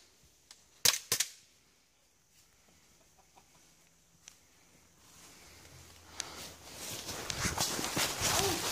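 Airsoft guns fire a few sharp, crisp shots close by near the start. A rising, noisy rustle of outdoor activity then builds and dominates the rest.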